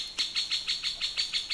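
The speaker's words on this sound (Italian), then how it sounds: "Che bell'uccellino." A small bird sings a quick, regular run of bright chirps, about eight evenly spaced notes in under two seconds, clear and fairly close with no talk over it.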